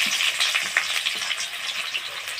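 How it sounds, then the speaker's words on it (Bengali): Chopped onions frying in hot oil with a cumin and dried-chilli tempering for mutton jhol curry, a bright, steady close sizzle with small crackles and a soft stir, no talking. "এবার বাবা এর মধ্যে পেঁয়াজ কুচি দিয়ে ভালো করে ভেজে নেবে"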